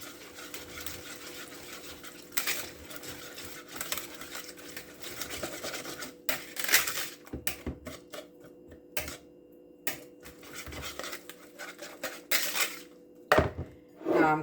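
A spoon stirs chicken fritter batter of egg, bell pepper, onion and garlic in a bowl, giving irregular clacking scrapes and taps that come in bursts with short pauses, close and fairly loud, with no talking.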